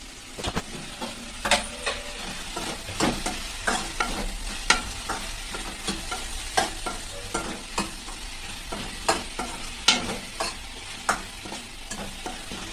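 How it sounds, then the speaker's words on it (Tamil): Brinjal (eggplant) sizzles in a pan while being sautéed and stirred for sambar, a steady frying hiss with repeated scraping stir strokes, close and continuous without talk. "கத்திரிக்காய் வதக்கிட்டு புளியை கரைச்சி ஊற்றணும்."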